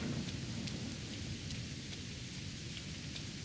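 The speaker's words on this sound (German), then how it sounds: "Wenn der Regen mal aufhören würde." Steady rain pours through the Sengoku Dynasty game world, a dense continuous hiss with scattered drop patter and low rumbling, holding even and unbroken throughout.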